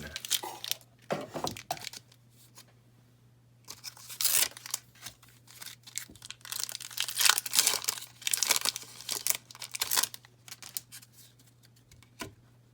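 Crinkly foil wrapper of a Magic the Gathering Rivals of Ixalan booster pack being torn open up close, with bursts of tearing and crumpling separated by brief quiet gaps over a low steady hum.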